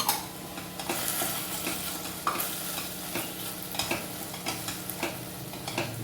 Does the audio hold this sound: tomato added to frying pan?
yes